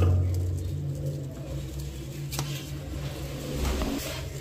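Domestic pigeons at a pigeon-flying tournament give soft, low, repeated coos close by against a quiet background.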